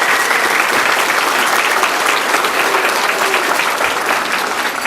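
A conference audience in Sacramento breaks into loud, sustained applause, dense clapping from many hands at close range with no voices on top.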